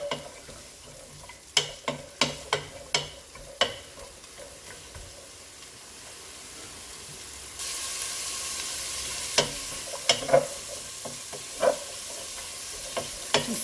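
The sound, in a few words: capsicum frying in oil in a pan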